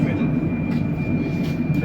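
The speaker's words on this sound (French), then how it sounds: "Donc voilà, on va choper le tram." Ride aboard a tram in Le Mans, a continuous low rumble of the moving car with rolling wheel noise and a faint steady whine, fairly loud and without talk.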